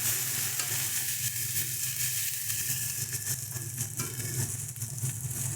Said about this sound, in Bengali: জিরের গুঁড়ো ভালো করে সমস্ত মশলাটাকে মিশিয়ে নিচ্ছি